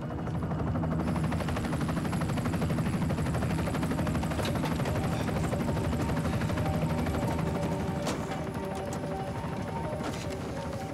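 A steady, continuous rotor-like drone fills the scene, heard as a helicopter lifting off near an abandoned oil rig location, with clattering and rhythmic thumping mixed in and no talking over it.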